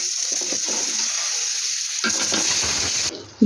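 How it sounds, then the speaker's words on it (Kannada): Ghee and oil sizzle in a pan for a bisi bele bath tempering. A loud continuous crackle is joined halfway by stirring and a fuller hiss, then cuts off abruptly. "ನಾಲ್ಕು ಸ್ಪೂನ್ ತುಪ್ಪ ನಾಲ್ಕು ಸ್ಪೂನ್ ಎಣ್ಣೆ ಇಲ್ಲ ಇದು ಒಗ್ಗರಣೆಗೆ ಹಾಕೊಂಡಿದ್ದೀನಿ ನಾನು"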